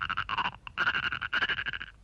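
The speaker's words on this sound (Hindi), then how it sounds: "मेंढक की आवाज।" A cartoon frog croaks in a rapid, steady series of loud, close, raspy pulses with a brief pause partway through, heard alone with no talking.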